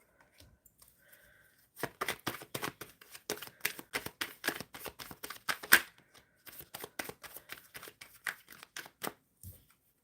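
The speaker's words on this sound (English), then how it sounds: "Shuffling for the blessed one." Tarot cards are shuffled close by in a quiet room, a rapid run of soft riffling flicks and taps that starts after a brief pause, with short gaps between bursts and a final thump.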